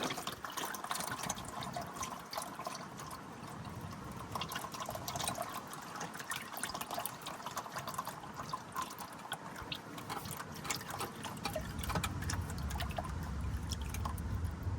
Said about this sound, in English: We drain some more fluid out of it.